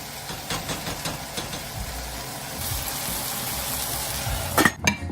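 Breadfruit frying in a pan Jamaican style, a steady low sizzle with occasional spatula clicks and a louder clatter near the end, close and moderately quiet.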